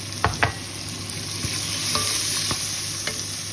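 Garam masala, cumin, coriander, paprika and cardamom powders frying in a pan for meatballs, a low steady sizzle broken by sharp spoon scrapes and taps against the pan at irregular intervals.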